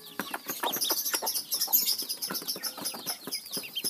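Two-day-old ducklings in a temporary pen chirp constantly, a dense chorus of high, rapid peeping close by with no voices.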